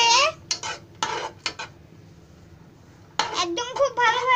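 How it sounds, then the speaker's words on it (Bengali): Chopped nuts and raisins stirred and fried in hot ghee in a pan, with a metal spoon clinking and scraping against the pan in short bursts while a person talks. "কিছু বাদাম কুচি আর কিসমিস এগুলোতে খুব ভালোভাবে মিক্স করতে হবে, ভেজে নিতে হবে,"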